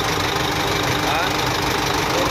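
The turbocharged engine of a Forland 4x2 forward dump truck runs close by, holding a steady, even rumble throughout.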